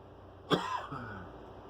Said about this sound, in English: my coughing.